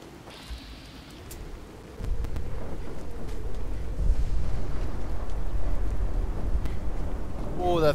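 Thunder and heavy rain from a storm in a zombie apocalypse survival video game, a low rumbling roar that swells after a couple of seconds and stays loud and steady, with a brief voice near the end.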